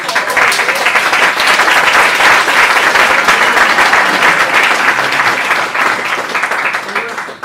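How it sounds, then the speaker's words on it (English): Loud, sustained audience applause for boot camp graduates at a graduation ceremony, a dense continuous roar of clapping that holds steady and tapers slightly at the end. "So let's all give them a round of applause."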